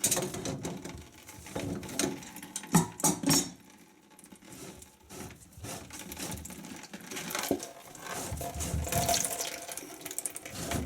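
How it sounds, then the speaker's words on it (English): Tap water runs into a basin sink under a newly installed Moen single-lever faucet, a steady close splashing rush that swells and thins with a few clinks and knocks. "Here's our water."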